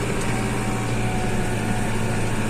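A TD100 tractor pulling an Özduman 24-row seed drill runs steadily across a stubble field during barley sowing, a continuous loud engine drone with no pauses.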